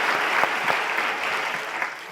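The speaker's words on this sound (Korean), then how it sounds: "우리 하나님께 감사의 박수," A church congregation at a Friday evening worship service bursts into applause, a dense, even wash of many hands clapping that carries on steadily without speech.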